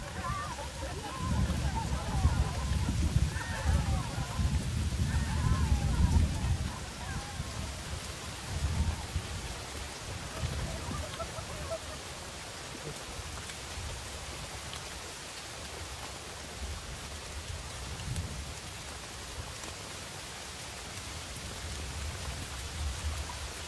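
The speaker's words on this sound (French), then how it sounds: "voilà qu'il se met à pleuvoir" Steady rain patters on surfaces throughout at Milshishan in China, with people talking during the first few seconds before the rain carries on alone.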